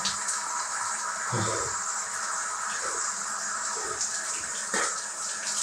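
A shower runs continuously with a steady hissing spray, and a few soft knocks and splashes come as the water is switched to cold.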